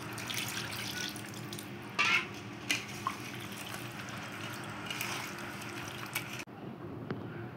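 Tap water runs steadily in a home kitchen while hands are washed after mixing beef for a curry, with a few brief clatters before the flow cuts off near the end.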